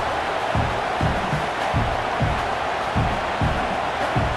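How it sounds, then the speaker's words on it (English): Stadium crowd roar in the College Football 26 video game, Notre Dame vs Texas A&M, as fans try to rattle the kicker, a dense continuous roar with rhythmic thumping chants or claps beneath it. "This crowd trying to do its part to get inside the kicker's head"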